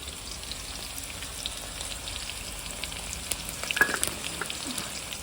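Chopped ginger, garlic and chili with onion frying in hot oil, a steady close sizzle and crackle with faint stirring scrapes and no talk.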